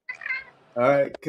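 A pet cat gives a pair of short meows close by, the second louder and drawn out, with someone speaking briefly around them.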